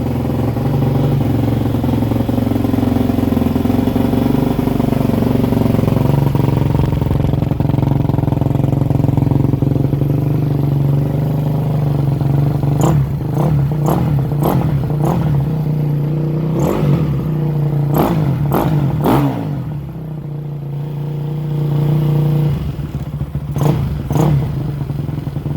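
A motorcycle engine runs on a track stand, idling with a steady low drone and slight blips. Sharp clattering knocks come in bursts partway through, and the engine keeps running throughout.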